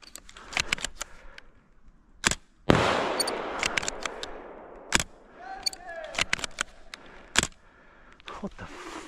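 Action Army AAC-01 Athena CO2 airsoft sniper rifle firing, a few sharp close cracks with a brief gassy burst and scattered clicks and handling noises in between.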